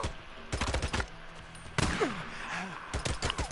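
Shotgun blasts in the video game Days Gone boom in quick bursts, close and loud, with a gap between volleys and faint background game sounds.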